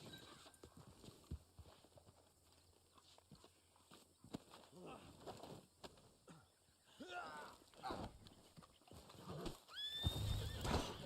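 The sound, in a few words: horse neighing and hooves in video game Red Dead Online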